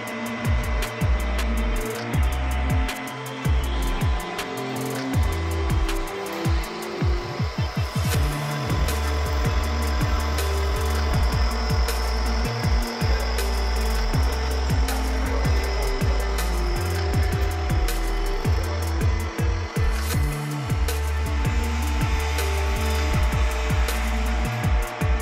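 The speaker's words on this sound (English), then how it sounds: "We will just give 120 RPM to avoid the sagging of the long shaft." A lathe turns a long steel shaft at a slow 120 RPM, a steady mechanical hum with repeated scraping and rubbing bursts from cutting, loud and continuous in a machine shop.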